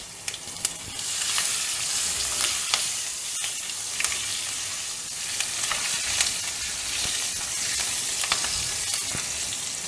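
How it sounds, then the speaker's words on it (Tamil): Green chillies and asafoetida sizzle steadily in hot oil in a pan, with occasional stirring clicks and pops, close and continuous. "பெருங்காயத்தூள் போட்ட உடனே இந்த பச்சை மிளகாய் சேர்த்துக்கணுங்க"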